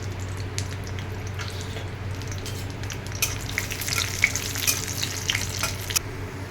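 Cashew nuts fry in hot ghee at the start of a paneer pulao, giving a steady, moderate sizzle with faint crackles. It runs alone, with no talking.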